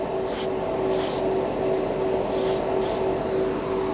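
A cheap Harbor Freight airbrush sprays paint onto a model airplane engine in four short hissing bursts plus a faint final puff, close and sharp over the constant drone of its small compressor.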